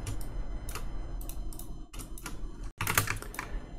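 Computer keyboard typing while working in drafting software, a close burst of clustered keystrokes with short pauses and a sharp click near the end.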